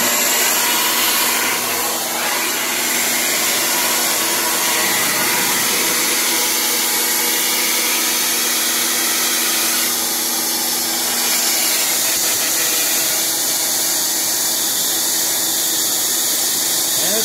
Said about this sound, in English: the Redneck invention, the Redneck cellulose blower